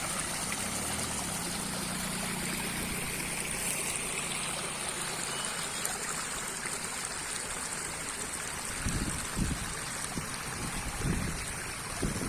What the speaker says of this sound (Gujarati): જેતપુર શહેરની અંદર પસાર થતી ભાદર નદીની અંદર જે કેમિકલ યુક્ત જે પાણી જે છોડવામાં આવી રહ્યું છે